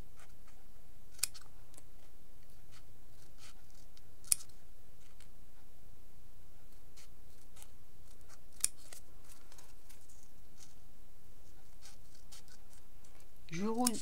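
Scissors slicing along the edge of a glittery foam sheet for Christmas baubles, giving sparse, light snips and clicks spread across the stretch, close and fairly quiet, with a voice talking underneath.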